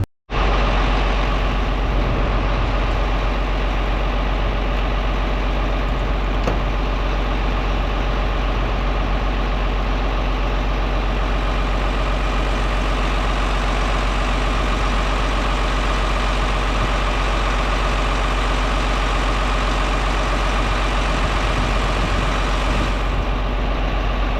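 A truck engine idles beside a trailer, a steady low diesel rumble that holds even and continuous for the whole stretch, with no voices over it.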